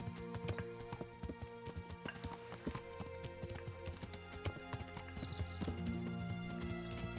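Hooves clip-clop in a quick, regular rhythm as a horse gallops in the video game Kingdom Come: Deliverance, with a brief whinny near the end over a steady background hum.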